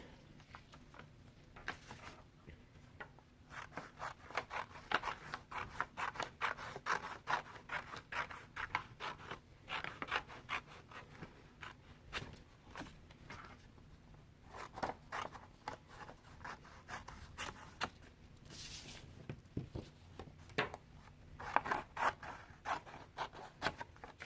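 Scissors snip through painted paper being cut into four pieces for a cityscape craft, with quiet repeated cutting, rustling and scraping of paper at close range, fairly faint and steady throughout, with no talking.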